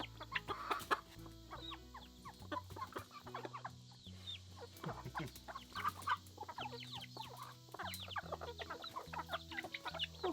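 New flock of young chickens, gold and silver laced Wyandottes and a Polish, clucking and peeping in a steady scattered chorus nearby, fairly soft with no talk.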